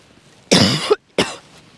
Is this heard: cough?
yes